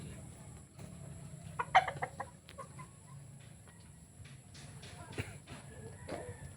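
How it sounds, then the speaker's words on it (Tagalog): Chickens cluck and squawk close by in a small backyard coop, with a few sharper calls over a low background hum. "Ayan, ito ating mga manok."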